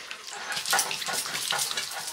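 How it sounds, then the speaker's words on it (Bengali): Bottle gourd and ash gourd are rinsed under a running tap, a steady close hiss and splash of water lasting a couple of seconds with fluctuating spatter. "কাটার আগে সব কিছু ধুয়ে নিচ্ছি"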